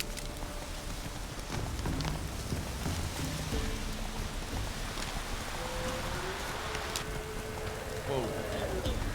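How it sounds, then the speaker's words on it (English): Steady rain falls in The Witcher 3: Wild Hunt, an even patter on surfaces throughout with a low rumble beneath and voices talking over it. "Looks like rain."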